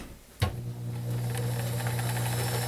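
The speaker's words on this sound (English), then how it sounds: "Super smooth working machine." A vintage 1970s Kenmore model 1914 convertible sewing machine starts with a click and settles into a steady, smooth motor hum and rapid needle whir, running alone without voices.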